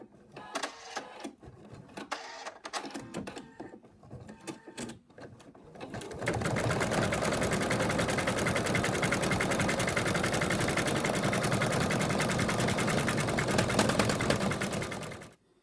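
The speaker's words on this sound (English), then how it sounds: "now it's going to stitch and leave an opening" An embroidery machine stitches the outline of an in-the-hoop zipped ladybug purse: a fast steady mechanical whir and needle chatter running continuously at moderate level, after a few seconds of quieter intermittent handling noises.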